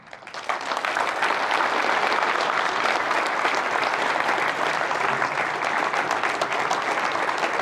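Sustained audience applause fills the room after a speech at a landscaping business talk, a dense, steady wash of many hands clapping that rises quickly and holds loud throughout.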